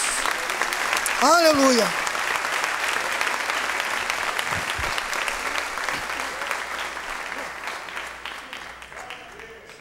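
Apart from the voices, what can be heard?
congregation applauding in church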